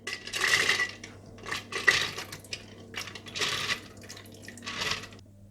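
Dry lentils poured into a blender jar for dahi baray batter, a run of hard grains clattering and pattering against the jar in several close bursts with short pauses between them.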